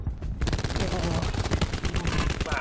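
Rapid automatic gunfire in Call of Duty: Black Ops 4, a dense burst of sharp repeated shots after a brief quiet start, loud and continuous, with a player's voice mixed in.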